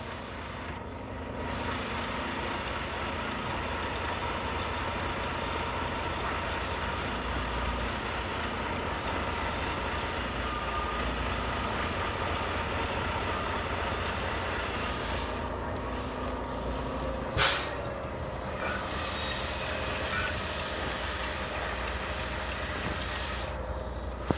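A semi-truck engine idling near downtown Lincoln, Nebraska: a steady, continuous low rumble with broadband noise, fairly loud throughout, with one brief sharp click partway through.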